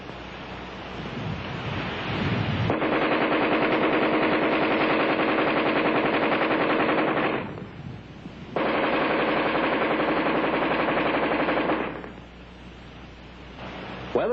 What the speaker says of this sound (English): offhand firing against a man-sized target at combat range, the AR-10 is in a class by itself.